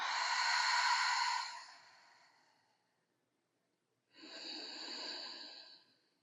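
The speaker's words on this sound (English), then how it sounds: "Exhale, let it go." Deep pranayama breathing during a yoga stretching session: a long, loud exhale of about a second and a half fades out, then silence, then a second strong breath of similar length, close and breathy with no speech.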